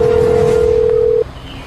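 A phone call is placed: a loud, steady single tone holds for just over a second, then cuts off abruptly, leaving quieter background noise.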